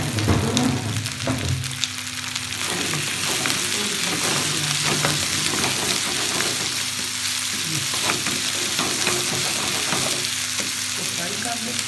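Potatoes frying in a pan for khakina, a loud, steady crackling sizzle with repeated scraping as they are stirred, close and continuous, with a faint hum under it.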